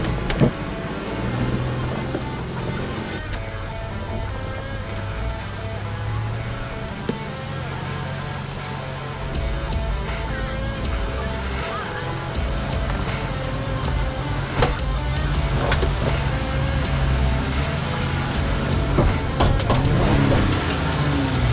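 An off-road vehicle engine labors up a rock ledge on a rocky mountain trail in Uwharrie, a continuous rumbling drone with shifting revs and scattered clunks as the vehicle climbs.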